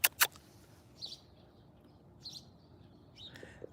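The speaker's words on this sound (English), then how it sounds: "Stormy, are you listening to birds?" Small birds chirp faintly outdoors in a few short, separate calls, with two sharper clicks at the start and quiet background between.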